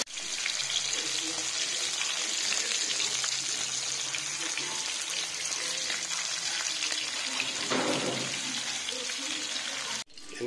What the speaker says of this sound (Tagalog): prito muna natin yung tilapia